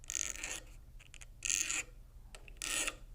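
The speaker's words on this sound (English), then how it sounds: "I'm just going to use my bench pin here and a file and just file off some of those burrs." A metal file rasping burrs off the end of a wire on a bench pin for earrings, three short bursts of scraping strokes separated by pauses and faint taps, close and quiet with no speech.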